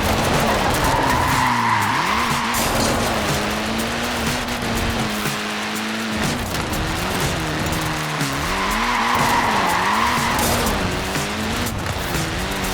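Tyres on a small Mini car in Forza Horizon 4 skid and squeal over a revving engine, with long drawn-out screeches that rise and fall through a loud, continuous run.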